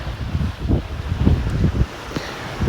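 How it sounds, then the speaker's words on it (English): Steady wind buffets a sailboat under sail with no engine or generator running, making a low rumbling gusty rush with occasional soft thumps, fairly close and continuous, with no voices. "You might hear some wind, but you're not hearing any engines and no generator."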